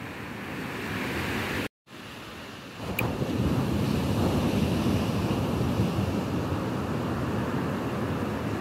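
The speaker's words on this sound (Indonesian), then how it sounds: "di tebing sana guys, itu ombaknya sangat besar sekali" Big ocean waves roll in at Lampuuk beach in Aceh with a continuous broad surf roar and wind buffeting the microphone, broken by one brief dropout near the start.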